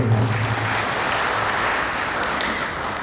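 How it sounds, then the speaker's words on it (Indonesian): Sustained audience applause fills a Ramadan study gathering in Wonosobo, a dense steady wash of many hands clapping at once, with a brief low voice near the very start. "tepuk tangan buat Lazismu"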